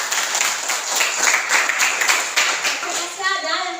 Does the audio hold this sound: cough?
no